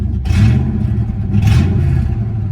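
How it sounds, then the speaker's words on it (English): A 1988 Camaro IROC-Z engine revs up twice in quick succession, the roar swelling and falling back to a steady idle between bursts; the exhaust sounds lacking. "Let's give it a little rev."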